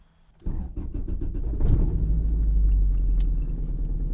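A 1999 Toyota Corolla engine with 260,000 miles catches and settles into a deep, steady rumble that grows slightly louder as the car gets moving.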